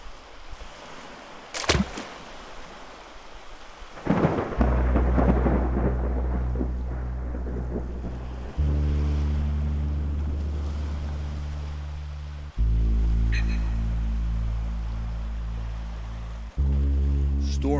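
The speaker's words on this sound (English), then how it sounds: "Storm is coming." A sharp crack of thunder in a game storm, then deep rumbling and a roaring wind-like drone that swells in repeated low waves.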